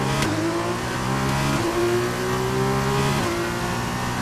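Formula 2 race car engines in rFactor 2 at the Austrian Grand Prix circuit, a loud sustained high whine that climbs through gears with quick upshift dips, several cars droning together.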